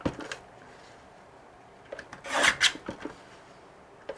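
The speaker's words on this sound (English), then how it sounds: "Just start cutting a bunch of these strips." Patterned paper is cut into strips, giving scattered short rasping snips, with a louder cluster of cuts midway, close and fairly quiet. No one speaks.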